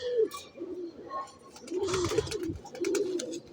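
Pigeons let loose on a sunny rooftop, with several soft cooing calls rising and falling close by, a fluttering burst of wings midway and faint chirps scattered through.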